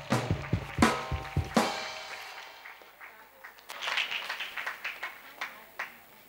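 A church congregation at an evangelism service claps in strong unison at first, then breaks into scattered, lighter clapping and lively crowd noise with voices mixed in.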